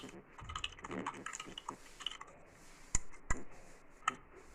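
Computer keyboard typing while HTML code is entered, a run of soft quick key clicks with a few sharper isolated taps, close and fairly quiet with no talk over it.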